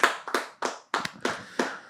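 Short bursts of hand clapping from a small group on a French sports talk show, several separate rounds of claps in quick succession, close and fairly loud with no talking over them.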